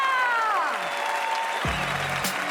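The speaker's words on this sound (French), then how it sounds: "On peut les applaudir" Audience applause at a stand-up comedy show, the Marrakech du rire 2016, rises as a dense wash of clapping that fills the whole moment, with a faint tonal sweep mixed in.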